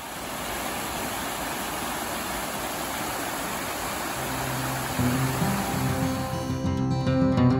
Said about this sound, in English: The trail follows along the creek here. Really nice tranquil noise.